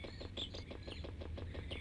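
Birdsong from the video game Ape Escape, a rapid series of bright chirps with a few higher whistled calls over a faint low background drone, steady and fairly quiet.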